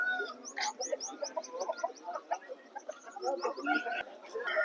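Roosters at a Vijayawada poultry market, including an active cockerel over two and a half kilos, with repeated chirps and clucks over busy market murmur and nearby talk.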